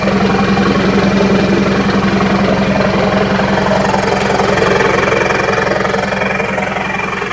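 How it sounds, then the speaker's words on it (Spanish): Hino Dutro 916 truck turbo engine with a straight bell-tipped exhaust rumbles loud and close in a steady, rapid idle pulse, throbbing continuously without talk. "Hino Dutro 916 turbo garre con penta en la turbina y trabajo de escape"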